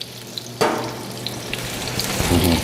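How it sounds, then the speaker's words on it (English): Sausages hit smoking-hot oil in a pan and burst into a loud, steady sizzle that rises abruptly and keeps crackling close by with no talking. "You can hear that sizzle?"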